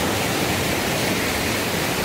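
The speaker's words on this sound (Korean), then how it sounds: "계곡 폭포가 바로 여기 달궁계곡" A waterfall in Dalgung Valley on Jirisan's Baemsagol gorge, pouring into a deep pool, gives a steady, dense broadband roar with no breaks, loud and close, alone without voices.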